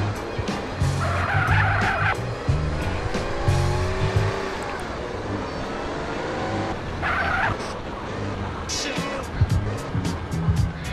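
A fast car in GTA San Andreas drives with a steady engine roar and repeated bursts of tire squeal, while a voice talks over parts of it.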